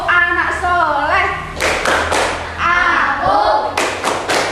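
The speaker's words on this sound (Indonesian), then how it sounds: "Ayo, sekarang kita tepuk anak soleh." Group of voices chants a Tepuk Anak Soleh clap game, with bursts of rhythmic group clapping landing between and under the sung lines, close and fairly loud.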